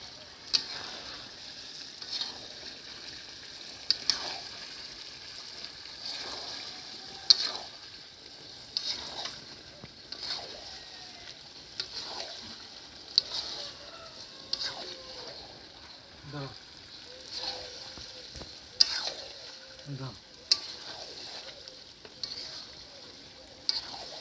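Meat being sautéed in a spice masala in a pan at an outdoor village picnic, with steady sizzling broken by repeated scraping stirs and some background voices.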